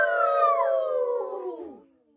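A storyteller's voice imitates a hyena howling loudly, one long sustained howl close to the microphone that slides downward in pitch and fades out after about two seconds.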